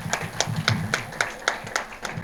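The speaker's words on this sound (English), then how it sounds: "Big round of applause." Audience at a memorial excellence awards ceremony clapping in a steady, rhythmic pattern of distinct claps, moderately loud and fairly close, with a faint voice murmuring underneath.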